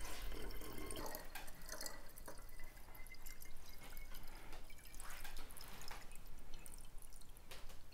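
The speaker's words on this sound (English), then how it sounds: "This is filtered water, like I said. Go ahead and fill your siphon up." Filtered water is poured into a soda siphon in a steady, close, hissing and trickling stream with faint dripping, continuing throughout without any talking.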